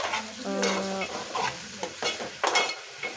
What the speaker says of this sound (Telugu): అన్నీ వేసుకున్న తర్వాత ఒకసారి ఆయిల్లో మంచిగా ఫ్రై చేసుకోవాలి.